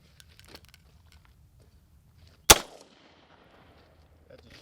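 A single sharp suppressed .45 pistol shot cracks nearby, standing out loud against an otherwise quiet outdoor range, followed by a brief fading tail.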